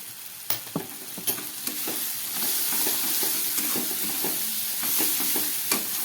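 Prawn curry with spices and a little ghee being stir-fried in a pan, a continuous frying hiss broken by sharp scrapes and knocks of the spatula, the strokes coming irregularly and close up.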